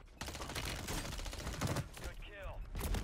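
Rapid, dense gunfire in Call of Duty Warzone on Rebirth Island, a continuous close volley of shots with a brief tonal game sound near the end.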